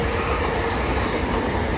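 A Class 465 electric train passing through New Cross station, with a loud, close, continuous rush of wheels and rail noise and rhythmic clatter throughout.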